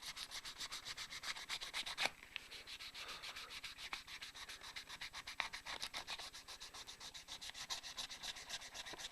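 A handmade guitar body being sanded by hand with 1200 grit sandpaper, a close, steady back-and-forth rasping of rapid even strokes with one brief pause, no talking.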